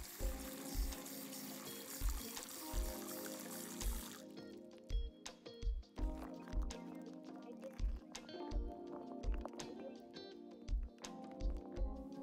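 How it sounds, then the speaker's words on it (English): Cold tap water runs over dried shiitake mushrooms being rinsed, a steady faint stream at first, then softer splashes broken by repeated low thumps and knocks. "Rinse the dried shiitake mushrooms under cold water."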